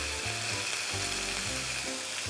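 Turkey steaks for a Christmas turkey dish browning in a frying pan, giving a steady close sizzle broken every half second or so by low thumps and scrapes as the pieces are turned.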